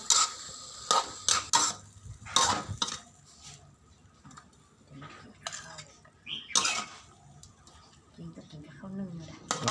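A cooked dish of stir-fried hed thop mushrooms is scooped with a metal spoon into a bowl and onto a plate, giving irregular clinks and scrapes of cutlery against crockery amid nearby conversation.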